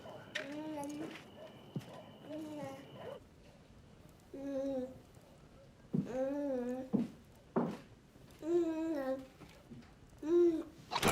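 A baby babbles in a Turkish drama scene with repeated short vocal bursts and cooing syllables spread across the stretch, fairly close, with some rustling between them.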